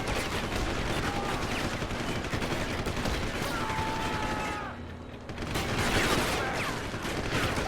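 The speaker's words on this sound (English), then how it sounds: "Oh, everybody down below is shooting at us too." Enemy gunfire in Deus Ex: Human Revolution rattles as dense, continuous volleys of shots, with a brief lull midway before the firing surges again.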